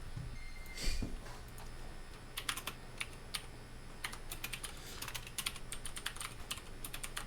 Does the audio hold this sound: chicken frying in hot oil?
no